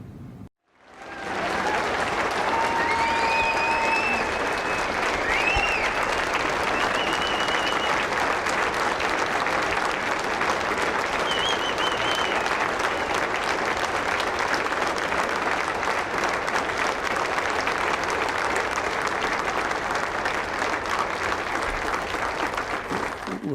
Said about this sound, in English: I would love you all to stand and please give him an incredible round of applause